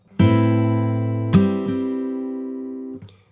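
Acoustic guitar strumming a section: two ringing chord strokes, then a lighter strum left to sustain and fade. Close and clear, with no talking.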